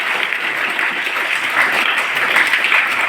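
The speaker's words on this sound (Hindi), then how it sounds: "उन सब के लिए जोरदार ताली बजाकर अभिनंदन करें" An audience claps loudly and steadily for students at a school honoring ceremony, a dense, sustained round of applause with no pause throughout.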